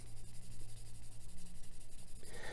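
A plastic part from a large Gundam model kit is sanded in quick, rhythmic back-and-forth strokes, a soft, close scratching rasp with no voices.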